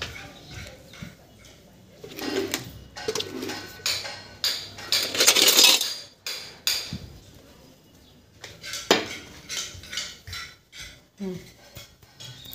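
A steel strainer and other kitchen utensils clatter in a home kitchen, with scattered metallic clinks and knocks coming in irregular bursts among voices talking nearby.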